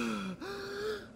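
A voice acts out Sonic the Hedgehog gasping for air in an audio drama, a sharp short gasp followed by a long drawn, strained breath, close and fairly loud.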